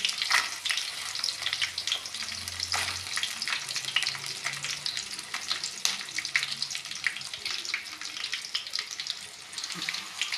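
Garlic cloves, dried red chillies, coriander seeds, cumin and fenugreek are dry-roasted in a pan for gongura pachadi, giving a steady crackle and sizzle with soft scraping stirs throughout.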